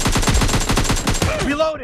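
Rapid machine-gun fire in the mobile shooter PUBG Lite during a team deathmatch, a loud, close burst of about a dozen evenly spaced shots over a second and a half, ending in a ringing tail.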